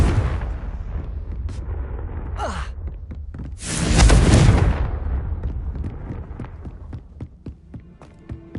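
A Confringo blasting spell in a Harry Potter video game goes off as a loud, roaring explosion midway, with whooshing spell sounds before it and scattered sharp impacts afterward.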